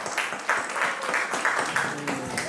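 An indoor audience at a Jain community annual day in Newcastle claps to welcome two speakers, giving moderate, steady applause of mixed hand claps that fades slightly toward the end.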